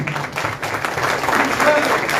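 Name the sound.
audience applause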